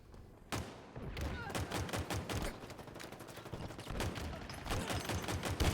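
Rapid gunfire fills a shooter video game match, with bursts of automatic shots and pistol cracks crowding closely together, loud and nearly continuous throughout.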